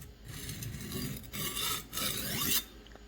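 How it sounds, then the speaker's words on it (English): A knife blade is drawn across a sharpening stone in steady, close, raspy strokes, about four long scraping passes with short gaps between them. "Showing you how to sharpen is more important."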